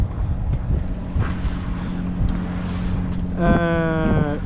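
Steady wind roars against the microphone aboard a sailboat motoring into a roughly 10-knot headwind with the genoa furled, a constant close rush with faint background voices and a brief tonal whine near the end.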